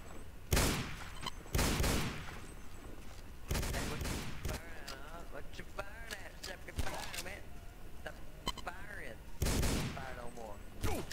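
Gunfire in the WWII roleplay video game REZ 1942RP: loud separate shots and short volleys crack out at intervals, with a voice talking between them.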